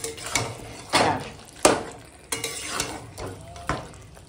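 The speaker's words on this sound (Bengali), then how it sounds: "গোটা গরম মশলার ফোড়নে যে মাটনটা কষাচ্ছি হেভি সাইড" Mutton being sautéed in a pan tempered with whole garam masala: a steady, close sizzle broken by regular, loud scraping stirs roughly every half second to second, with no voices.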